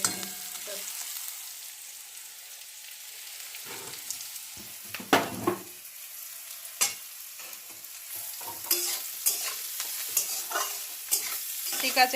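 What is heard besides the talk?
onions frying and being stirred in a pan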